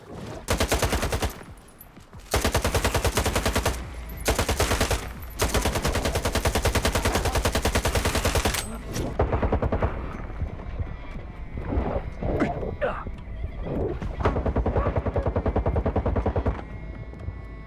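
Automatic gunfire at a pseudo-dog in S.T.A.L.K.E.R. 2, long rapid bursts of loud close shots broken by short pauses, then the firing thins into scattered shots, clatter and creature noises.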